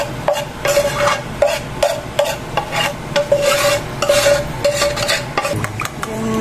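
Cooked ingredients are stirred into an egg mixture for an egg curry roll, a spoon or whisk scraping and rasping against a bowl in steady repeated strokes, close and fairly loud with no talking.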